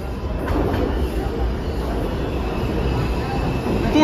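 A New York City subway 4 train on the IRT Lexington Avenue line rumbles loudly and close, with a heavy low roar of wheels on track and a thin metallic squeal rising near the end.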